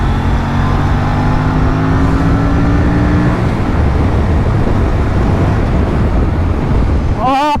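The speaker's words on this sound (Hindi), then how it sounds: "हम थोड़ा सा भगा के देखेंगे, तो अब हमें खुली रोड मिली है एंड थोड़ा सा पुश करके देखेंगे बाइक को।" Aprilia RS457 motorcycle pushed hard on an open road, engine note rising steadily under loud wind and road roar, with a sharp rev climb near the end; a rider speaks over it.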